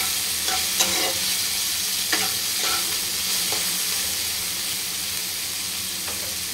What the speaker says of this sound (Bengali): পেঁয়াজটা একটু নেড়ে চেড়ে দিলাম আলুর সঙ্গে।